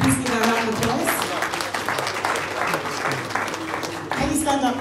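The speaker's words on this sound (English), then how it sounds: "Can you please give her a round of applause?" Audience applause at a political town hall meeting and fundraiser in Manchester, UK, steady clapping from a modest crowd heard under someone speaking over it.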